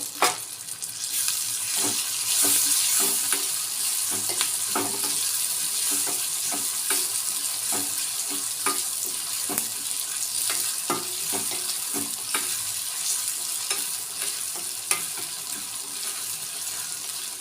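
Tomato and masala fry in a pan with a steady sizzle, and a spoon stirs and scrapes through it in soft repeated clicks. The sound runs close and continuous with no voices.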